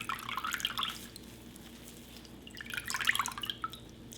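Water drips and trickles in a sink while grated potato is rinsed and massaged to wash out the starch, two bursts of splashing with a quieter gap between, close and alone.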